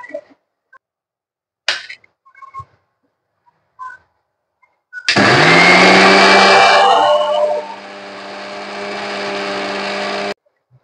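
A mixer grinder whirs loudly, grinding fresh coconut, garlic, cumin, chili and salt into chutney. A few short clicks and bumps come first, then a steady motor roar that winds down after a couple of seconds and keeps running more softly to the end.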